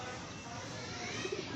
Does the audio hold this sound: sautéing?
no